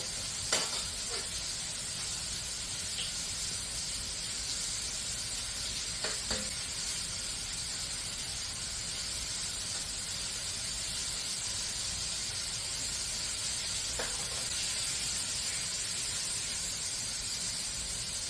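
Steak fingers frying in overheated oil, a steady broadband sizzle and hiss running throughout with a few faint clinks and stirs, close and constant with no talk.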